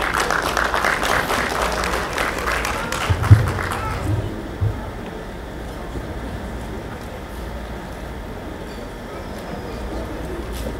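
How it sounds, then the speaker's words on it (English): A convention audience of the Efik National Association in Houston applauds a guest of honor, with a broad wash of clapping for about four seconds that fades into quieter room ambience. "A round of applause for her, please."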